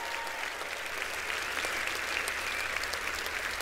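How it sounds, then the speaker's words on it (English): An audience applauding at a Lufthansa corporate event, dense sustained clapping from a large crowd at an even level throughout. "Please applaud."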